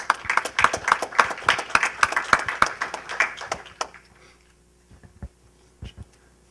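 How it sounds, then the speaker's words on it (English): Audience applause for a speaker called to the podium at an evening program, a lively patter of close claps that thins out and fades into a few scattered claps. "let's give him a round of applause"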